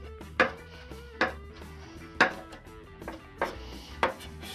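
A knife chops through raw spinach on a cutting board in a kitchen, with five or six distinct, sharp thuds spaced about a second apart and nobody speaking.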